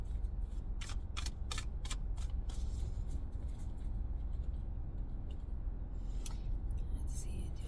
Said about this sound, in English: Do a little shuffle